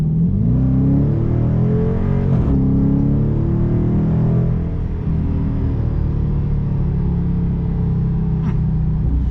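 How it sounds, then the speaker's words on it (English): A 2021 Dodge Challenger R/T accelerates on the road, its engine rumbling loudly and rising in pitch as the throttle opens, then holding a steady low drone from inside the car. "Let's give the RT a little squirt of throttle."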